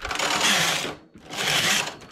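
Domestic knitting machine knitting lace rows toward a round neckline, two quick loud whooshing rattles as the carriage is swept across and back, with a short quiet pause between passes.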